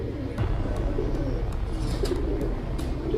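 Imported racing pigeons cooing in a pigeon showroom, a steady low burbling murmur from several birds nearby with faint scattered clicks and flutters.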